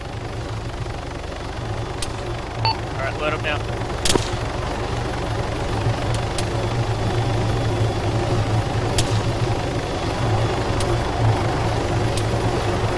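Helicopter rotor in the military shooter Arma 3, a steady low droning hum running throughout at moderate level, with occasional sharp gunshot cracks and a brief spoken line over it.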